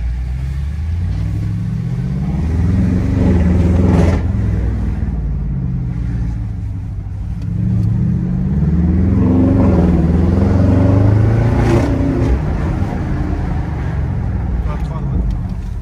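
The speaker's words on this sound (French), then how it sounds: "C'est votre camion, ça, Riri?" A heavy truck engine revs repeatedly, rising and falling in pitch over a steady rumble, loud and close, with outdoor background noise.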